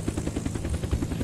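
A helicopter in the video game Unturned flies with a loud, close, rapid rotor chop pulsing in a steady rhythm over a low engine drone, brief and with no talk.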